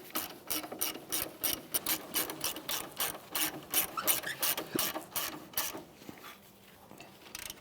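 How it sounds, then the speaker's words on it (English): A ratchet with a 17mm socket tightens the front brake caliper bolts on a 2011-2016 Hyundai Elantra, producing quick close rhythmic clicking in bursts that taper off near the end. "with our 17mm socket, we'll tighten these down"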